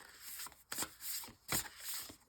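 Tarot cards being shuffled by hand in a series of crisp riffling bursts, about five papery sweeps in quick rhythm, close and fairly quiet with no talking.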